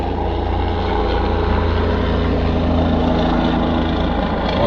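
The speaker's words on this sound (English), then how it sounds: "Helicopter." A helicopter overhead produces a loud, steady broadband rotor and engine roar. It holds constant throughout with no voices over it.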